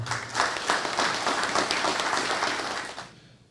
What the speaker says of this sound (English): please give a round of applause to our guest speaker, Fran Drummond.